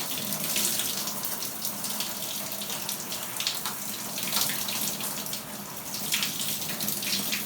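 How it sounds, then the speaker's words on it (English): Cold water running steadily from a shower, a continuous close splashing hiss with no voices, holding an even level throughout. "from the cold shower"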